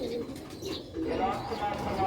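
Sialkoti pigeons coo in soft, low, throaty calls close by, with some faint chirps and rustling background noise.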